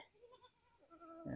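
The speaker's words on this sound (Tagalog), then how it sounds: "Ito naman yung ating kambing na si Hingi." A farm goat gives a few wavering bleats, quiet at first, then one louder, nearer cry at the end, with no talking.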